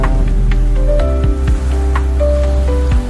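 Steady rain patters loudly over a low, rumbling background, with scattered drops and a sustained hum running throughout, near Niagara Falls.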